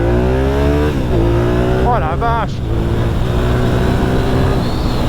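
A 1997 Suzuki TL1000S V-twin motorcycle accelerates hard and climbs through the gears, its engine note loud and close and rising, dropping briefly at each shift, with a rider's excited exclamation over it.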